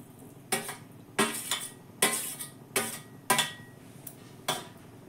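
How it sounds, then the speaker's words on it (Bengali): A metal plate is set over a pot of vegetarian dal with coconut and bottle gourd greens, making about six sharp metallic clanks and rattles in an uneven rhythm, close and fairly loud. "এবার আমি থালাটা ঢাকা দিয়ে দিলাম"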